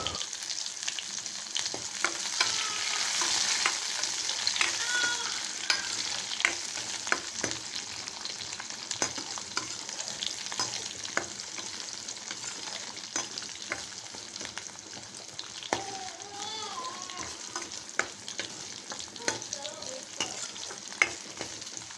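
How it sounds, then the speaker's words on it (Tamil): Chopped onion and garlic fry in oil as the tempering for a fish curry, giving a continuous close sizzle with scattered crackles and occasional stirring scrapes. "அதுக்கப்புறம் நறுக்கி வச்ச வெங்காயத்தையும் வெள்ளைப்பொடியும் தாளிக்கிறதுக்கு சேர்த்துக்கலாம்."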